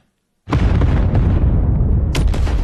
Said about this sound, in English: And then these are being supported by some stereo explosions here.